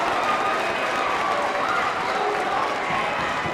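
A crowd at a high school boys basketball game cheers and applauds in a loud, sustained roar that fills the gym, with a voice audible beneath the noise.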